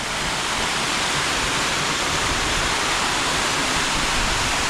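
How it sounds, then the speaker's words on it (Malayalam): A steady, loud roar of falling water, a tall waterfall near Munnar rushing without pause or change from start to finish. "നല്ല ഉയരമുണ്ട് ഈ ഒരു വെള്ളച്ചാട്ടം"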